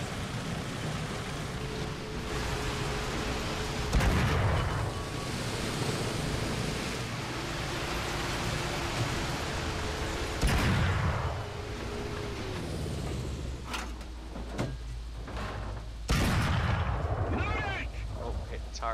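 M4A1 tank cannon firing in War Thunder, three loud spaced booms over the rumbling drone of the tank engine and track noise.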